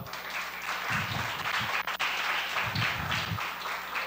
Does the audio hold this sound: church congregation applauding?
yes